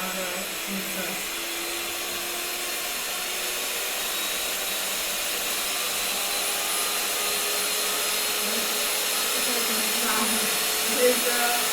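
A Laikeda electric hand egg mixer runs on its first speed with a steady, loud motor whir and airy hiss, holding an even drone close to the listener with no breaks.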